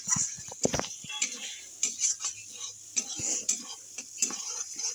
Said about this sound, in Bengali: এবার ভালো করে মশলা কষিয়ে নেবো।